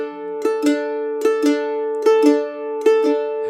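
Mandolin strummed in a reel rhythm with long downstrokes and short upstrokes, four clear pairs of bright strums ringing on a held chord, close and alone.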